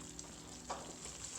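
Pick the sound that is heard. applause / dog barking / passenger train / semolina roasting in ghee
semolina roasting in ghee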